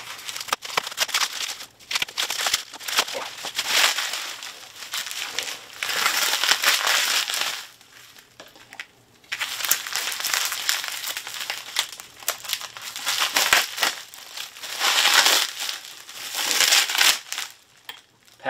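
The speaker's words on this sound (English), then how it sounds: "I'm trying to carefully cut away this bubble wrap" Bubble wrap being cut away from a package holding a newly delivered gun, with loud close crinkling, crushing and rustling in long sustained bursts separated by short pauses.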